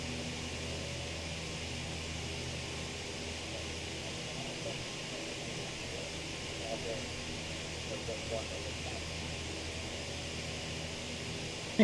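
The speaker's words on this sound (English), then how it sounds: "You can hear the airplane a bit." A steady, even engine drone from an ATR 72-600 turboprop airliner in Microsoft Flight Simulator 2020, moderately quiet and unchanging throughout.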